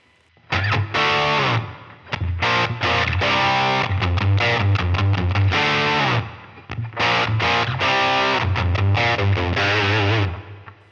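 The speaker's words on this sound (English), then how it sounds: "Now let's put our reverb in." A distorted electric guitar plays loud, choppy chords and riffs in bursts through a Line 6 Pod Go/Helix/HX Stomp, with reverb added giving a washy, echoing tail ringing between phrases.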